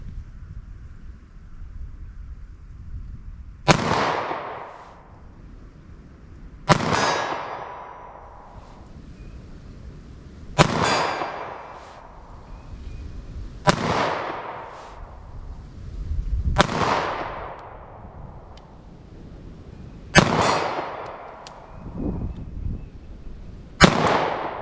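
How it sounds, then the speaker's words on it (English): Single shots from a .380 ACP pocket pistol fired slowly at a target 40 yards away outdoors, six sharp loud cracks spaced a few seconds apart, each with a decaying echo, over light wind noise and no talk. "I'm just going to fire slow from 40 yards just for fun, just to see if I can hit the target with these little pocket pistols"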